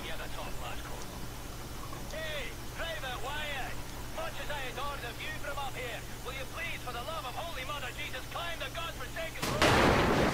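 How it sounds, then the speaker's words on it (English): Cannon fire in the video game Wolfenstein: The New Order, a sudden loud blast bursting in near the end after a stretch of game noise and voices talking throughout. "The people who are shooting the cannons have very good shots, actually."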